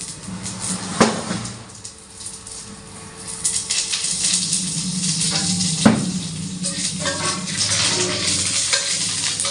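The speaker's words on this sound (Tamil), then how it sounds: "எப்பயுமே சட்னி தாளிக்கும் போது நான் எப்பயுமே சின்ன ஜீரகம் போடுவேன்" Crackling sizzle of cumin and curry leaves hitting hot oil, with a couple of sharp pops and steady frying hiss throughout, no talking.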